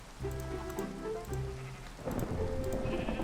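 Rain falls steadily in the video game Minecraft, with a rumble of thunder building underneath, loud and continuous with no talking.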